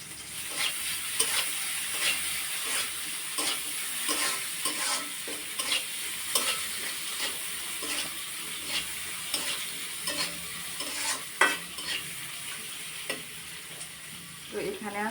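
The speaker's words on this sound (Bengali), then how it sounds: "আবার রান্না করার জন্য তেল দিয়ে দিলাম পেঁয়াজ, সাথে দিলাম তেজপাতা, এলাচ, দারুচিনি।" Onion, bay leaf, cardamom and cinnamon frying in oil sizzle steadily while a spoon stirs and scrapes the pan in frequent, irregular strokes, with a sharper clack near the end.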